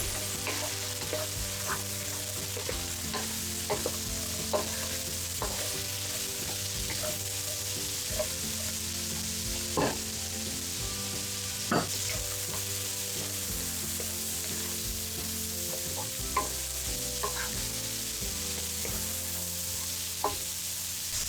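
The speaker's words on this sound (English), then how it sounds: "After frying for about 2 minutes, add the carrots and let it fry for another 2 minutes." Carrots stir-frying in a hot pan for egg fried rice: a continuous bright sizzle with scattered clicks and scrapes of the spatula stirring, steady and close, no voices.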